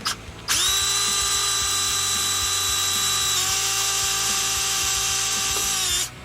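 A power drill whines at a steady high pitch while boring a pilot hole through a metal bolt on a Cletrac roller, running continuously for several seconds before stopping.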